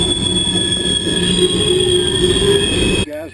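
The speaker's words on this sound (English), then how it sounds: "and a train comes by." A loud train rumbles past up close, steady roar with high metallic wheel squeal, cutting off abruptly near the end.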